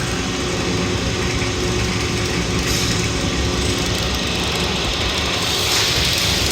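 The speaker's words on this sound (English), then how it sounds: "This unit hums right along. There are no irregular noises. There's no scraping or anything." A rebuilt Kelly Duplex 3-ton mixer runs with its paddles turning, giving a loud, steady mechanical churn with a ratcheting, gear-like clatter throughout and no breaks.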